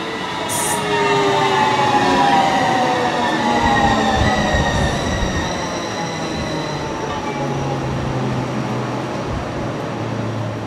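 A Copenhagen Cityringen M3 metro train running underground: a loud, steady rumble of wheels on rail with falling whining pitch tones as it slows, continuous and close throughout.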